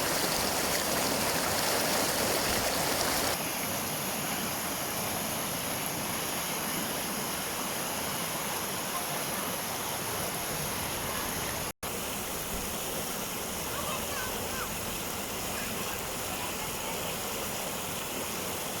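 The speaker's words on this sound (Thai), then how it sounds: "เป็นน้ำตกที่สวยงามในอีกแห่งหนึ่ง" Steady, broad rushing water fills the whole stretch, a continuous roar from the nearby Huai Tuek Chu waterfall in Phu Sing district, Sisaket province, Thailand, with no voices.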